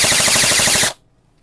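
An HFC 201DE airsoft electric gun fires on full auto in one loud, close burst of rapid, evenly spaced shots lasting under a second, then stops sharply into near silence.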